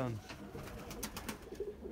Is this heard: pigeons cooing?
yes